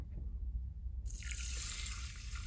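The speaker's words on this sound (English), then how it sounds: "So now I'm just gonna add some water." Water pours from a tap into a container of fresh peppercorns, starting as a bright, steady splashing stream about a second in and running on close by, with no voices.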